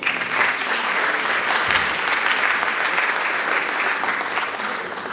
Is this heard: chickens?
no